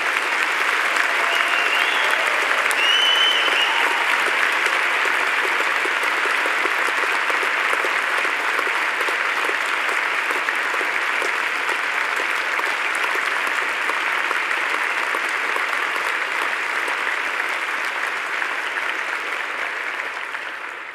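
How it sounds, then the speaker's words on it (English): Long, steady applause from a graduation audience at a Faculty of Medicine ceremony fills the hall, dense and even before tapering slightly at the end. "Let's have some real applause, please, for all the people who've helped you."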